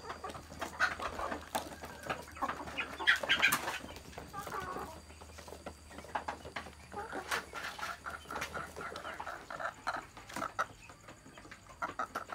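Black H'Mong chickens clucking on a farm, a busy cluster of short clucks and calls at close to moderate range over a steady low hum, with other fowl and faint background activity.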